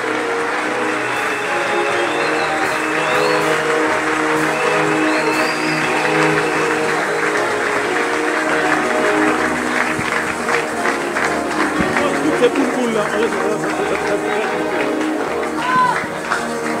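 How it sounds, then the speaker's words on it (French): A church congregation claps loudly and continuously for the Lord during a prayer service. The steady, dense applause runs the whole time, with voices and music mixed in. "Acclamez pour le Seigneur très fort."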